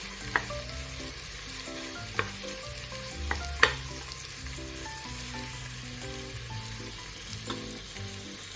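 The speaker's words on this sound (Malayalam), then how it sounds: "തുടർച്ചയായിട്ട് 2 മിനിറ്റ് ഇത് ഇളക്കിക്കൊണ്ടിരിക്കണം." Tomato, ginger and garlic paste stirred in a pan for biryani, giving a steady soft sizzle with occasional sharp scrapes and clinks of the spoon against the pan, heard alone with no talking.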